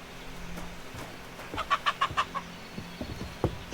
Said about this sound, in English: Chickens. Chickens, chickens.